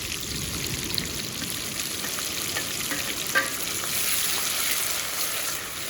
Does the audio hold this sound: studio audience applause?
no